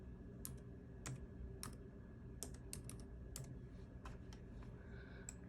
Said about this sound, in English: I'm gonna type in her name